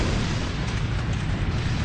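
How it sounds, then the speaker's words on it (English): A Baneblade super-heavy war machine blowing up on a battlefield: a loud, dense roaring blast that fills the whole clip as one continuous rumble, with no voices. "Then it exploded."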